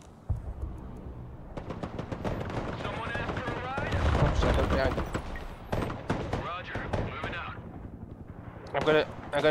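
Broken Arrow battlefield gunfire crackles in rapid sharp bursts and heavier booms, layered under near-continuous talking.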